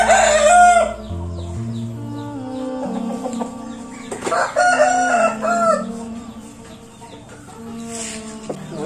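Newly arrived chickens clucking close by, with a rooster crowing loudly near the start and again around the middle, in a farmyard with overlapping bird calls.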